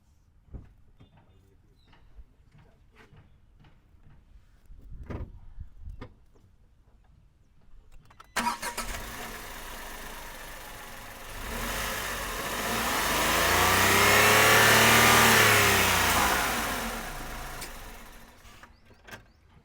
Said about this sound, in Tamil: நான் உங்களுக்கு வண்டி ஸ்டார்ட் மட்டும் பண்ணி காமிச்சிட்றேன்